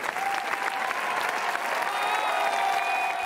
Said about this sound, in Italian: ovazione e lunghissimi applausi per Tre piani di Nanni Moretti